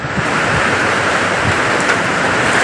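Heavy rain from a typhoon pours in a constant loud hiss while strong wind roars over it, steady throughout with no talking.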